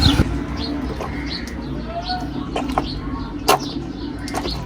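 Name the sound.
pigeons cooing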